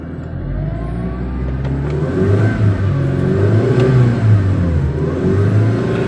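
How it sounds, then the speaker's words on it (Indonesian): A 2004 Mitsubishi Lancer Evolution 9 station wagon with a 2.0-litre turbo engine and automatic transmission idles and then is revved, the engine note climbing and holding with a steady, loud, close-up roar. "suaranya coba kita gas dikit yuk"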